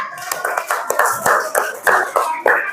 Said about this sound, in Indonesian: kita beri tepuk tangan buat kalian semuanya